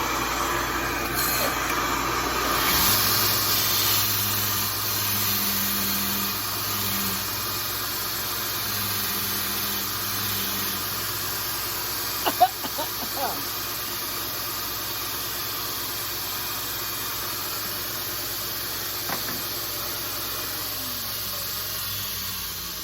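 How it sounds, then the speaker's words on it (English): A shop vac rigged to suck up sanding dust while a longboard sanding block is built, giving a steady loud hissing roar throughout with a few faint knocks. "I've actually tried to rig up my shop vac to try and suck up most of the dust"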